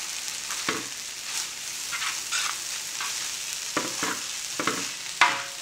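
Fried rice with spring onions stir-fries in a hot pan, a steady close sizzle cut by repeated scraping and clattering strokes of a spatula at an uneven pace, with no voices.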